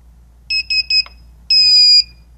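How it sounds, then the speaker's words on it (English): A Solaris infrared barrier beeps in alignment mode: three quick, bright electronic beeps in even succession, then a pause and one longer, sustained beep, all loud and close with no talk. "The three quick beeps mean alignment mode."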